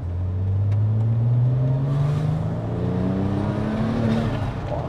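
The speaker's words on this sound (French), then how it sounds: "T'entends bien les turbos? On entend super bien les turbos." A car engine with turbos revs steadily higher from inside the cabin, a loud rising drone with whooshing turbo whine layered over it, continuous for several seconds without talking.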